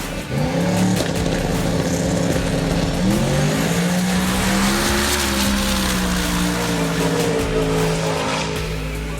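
A drag racing car roars down the track at a drag strip in America, its loud engine note climbing in pitch and then settling as it passes, continuous and powerful, with no speech.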